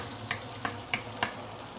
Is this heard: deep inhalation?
no